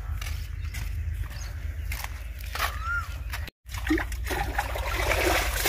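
Irrigation water trickles and splashes onto a mango plant in a garden, a soft, steady flow with a brief dropout partway through.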